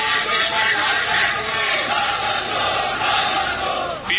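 Thousands of protesters at a street rally in Pakistan-administered Kashmir chant a slogan together, a loud, dense roar of massed voices that swells and dips continuously.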